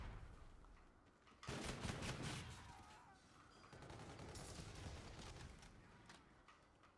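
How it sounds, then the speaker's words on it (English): Close-range shotgun blasts in the first-person shooter Infinite Warfare, a loud burst of gunfire with a second volley shortly after, heavy and booming, with game effects in the background. "I don't care, this shotgun's OP. Plus it's close range."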